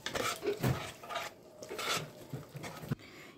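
Ground spices being stirred and fried in a pan, with repeated scraping and clinking of a utensil against the metal in short uneven strokes, fairly close and moderately quiet, no talk.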